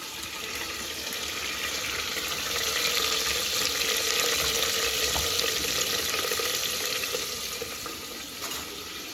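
Sliced onions frying with cinnamon, cloves and fennel for chicken Ambur biryani make a continuous, dense hiss and crackle that swells slightly midway, close by with no voices.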